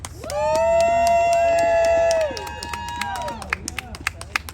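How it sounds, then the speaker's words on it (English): Crowd at a Rhode Island rally against homelessness claps hands in a steady rhythm while voices sing together, the claps continuing sharply and evenly after the singing drops away. "let's just clap our hands and give the King some praise"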